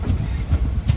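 Sevan Hills SF express train running near Sriram Nagar station, with a continuous close rumble of wheels and carriages and faint rhythmic clatter from the rails, loud and steady with no talk.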